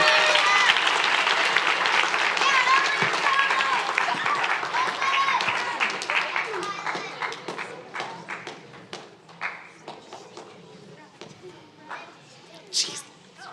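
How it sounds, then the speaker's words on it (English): An audience at a high school sports team's end-of-season awards ceremony breaks into loud, dense applause that gradually thins into scattered individual claps and a few stray shouts. "let's give them all a really big round of applause"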